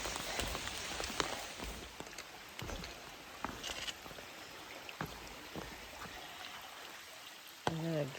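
Rain falls on the Appalachian Trail in New Hampshire as a faint, steady patter with scattered louder drops, and a brief rustle near the end.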